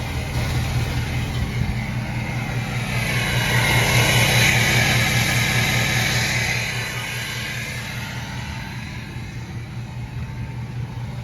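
A 2016 Ford F-350 Lariat dually pickup with a 6.7 L diesel and straight-pipe exhaust idles close by. The rumble is steady and deep, swelling briefly midway before settling back to an even idle.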